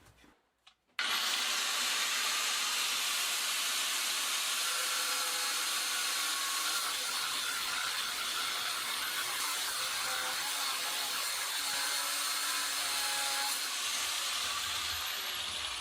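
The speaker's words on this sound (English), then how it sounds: "No need to grind all the way through the cups." An angle grinder cutting through a scrap bicycle frame, throwing sparks: a sudden start into a continuous loud high whine and rasp that holds steady throughout.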